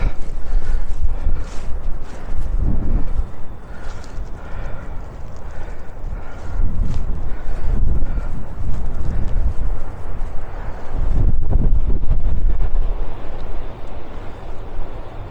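Strong wind buffets the microphone on a breezy seaside clifftop above Ilfracombe, Devon, a loud continuous low rumble with gusts swelling and easing throughout and no voices.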